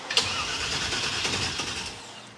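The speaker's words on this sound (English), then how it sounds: "Nice, the starter works." A car's starter motor cranks an engine that fails to catch, likely for lack of fuel or spark, a steady churning drone lasting a couple of seconds with a sharp click at the start, close and fairly loud, no talk.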